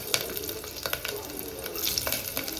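Garlic drops into hot oil for a dal dish and sizzles with a crackling hiss, close and steady over a few seconds, with light spattering pops.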